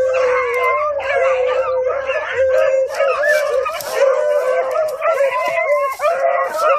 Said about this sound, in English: Now that's a hound dog.